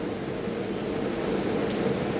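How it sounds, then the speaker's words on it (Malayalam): Heavy rain pours outside as a steady, dense broadband rush with no breaks. It is moderately loud and even throughout, with no one speaking. "പുറത്ത് നല്ല മഴ പെയ്യുന്നുണ്ട്."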